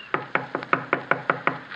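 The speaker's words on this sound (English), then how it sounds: "I knocked politely." Eight polite knuckle raps on the door of a flimsy shack built of paper, paste and wire, evenly spaced and close, ringing hollow and light.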